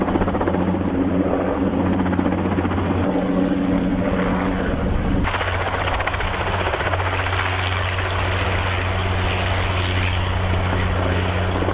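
A helicopter hovers on a calm, mostly cloudless day while hoisting tower sections on straps, its loud rotor and engine drone steady and close throughout, with no voices.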